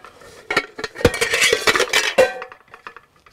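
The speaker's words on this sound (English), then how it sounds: "this sort of pot set, anodized aluminium, 3 pots, 2 lids" Anodized aluminium camping pots and lids, a set of three pots with two lids, clink and clatter against each other in a quick, busy series of close metallic knocks that taper off into a few lighter taps.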